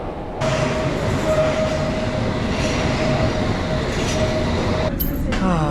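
Loud, steady rumble of a London Underground train in motion heading to Monument station, with a constant hum and a brief high squeal near the end.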